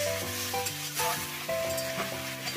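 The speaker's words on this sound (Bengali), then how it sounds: "এবারে আলু, টমেটো আর পেঁয়াজ গুলো একসাথে ভেজে নেব।" Potatoes, tomatoes and onions fry together in a pan with a little oil, turmeric and spices, giving a steady close sizzle with stirring scrapes and clinks throughout, no talk.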